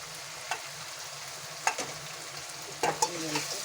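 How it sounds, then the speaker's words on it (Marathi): Cluster beans and crushed green chilies sautéing in oil, a soft, steady sizzle broken by a few spoon-stirring scrapes, quiet and close with no talk. "चांगली तेलामध्ये परतून घ्यायची."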